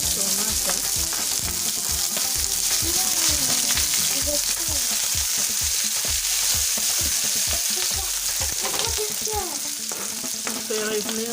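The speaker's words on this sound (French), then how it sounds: "On fait revenir les oignons, les jeunes oignons. L'ail, le céleri." Onions, spring onions, garlic and celery sizzle steadily in a pan for a tomato sauce, with a constant loud frying hiss and scattered clinks and scrapes of stirring throughout.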